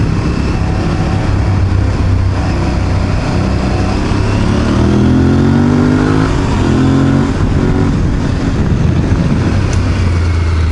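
Aprilia Tuareg 660 adventure motorcycle accelerating on the road, its mid-pitched engine climbing hard through the revs with rising tones and a gear change, loud and close over wind rush.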